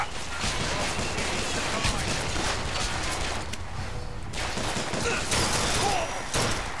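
Gunfire aimed at the player in Bioshock Infinite crackles steadily in dense bursts through a loud, noisy game battle, with no clear voices over it.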